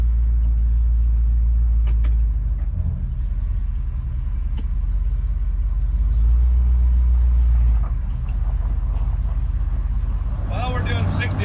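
A truck cruising on a motorway at 65 mph, giving a steady, loud low engine and road rumble from inside the cab that continues throughout, with a brief higher rattle near the end.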